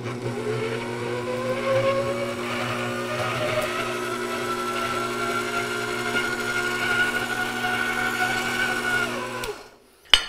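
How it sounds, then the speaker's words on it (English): A Shamrock 6-quart stand mixer with its head down and paddle attached creams a cup of butter with a steady whirring motor hum and faint rising tones, then stops abruptly near the end. "So, mixer head down. I got a cup of butter in there. We're gonna cream this bad boy."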